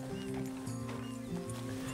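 A horse is tied up in the Red Dead Redemption 2 video game, with close hoof clops and shuffling along with brief horse sounds. Background game noise runs underneath.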